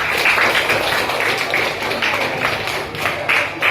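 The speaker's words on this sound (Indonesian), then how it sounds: "Kasih aplaus dulu kita semua." Group applause fills a classroom guidance session: steady, dense clapping from many hands, fairly close and even throughout, with brief louder swells and no clear speech.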